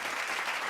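A brief burst of applause sound effect, a dense even wash of clapping lasting under a second.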